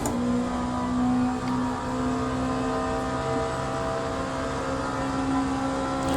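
A P2 prototype race car engine in the video game Le Mans Ultimate drones at a steady high rev, a sustained whining hum with little variation and no speech.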